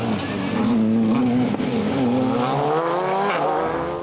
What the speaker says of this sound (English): Here's the Skoda Fabia of Joseph McGonigal and Kieran Geeney, who were 6th after the opening stages